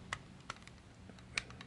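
Ratchet joints on a Hasbro Titan Returns Galvatron action figure click a few times, sharp and close, with three distinct snaps spaced apart over quiet background.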